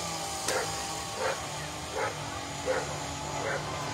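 A dog barks in a backyard neighborhood setting, five evenly spaced barks at a moderate distance over a low background hum.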